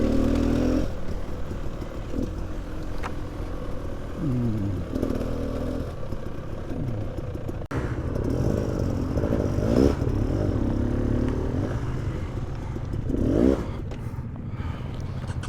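A motorcycle with high ground clearance rides a rutted lane popular with walkers, its engine a steady low drone with irregular revving surges and clatter from the rough surface, close and continuous throughout, with no talk.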